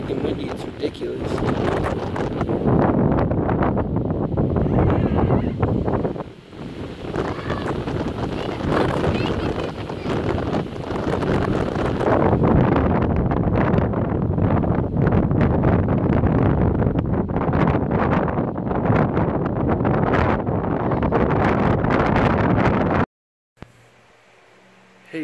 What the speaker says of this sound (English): It's so freaking windy, it's ridiculous.